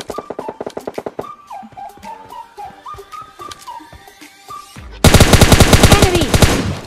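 Repeated rapid gunfire bursts in the PUBG Mobile Lite battle game, sharp shots early with tonal in-game whistles, then a loud dense automatic burst near the end.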